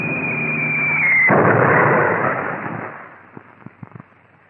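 Bombs bursting in an old wartime film, one long roaring blast that rumbles and fades, followed by a few scattered distant thuds.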